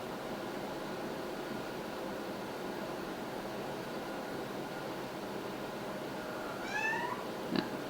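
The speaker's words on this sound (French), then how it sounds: "Mon chat miaule." A house cat meows once near the end, a short rising and falling cry heard faintly over a steady hum of room noise, with no talking.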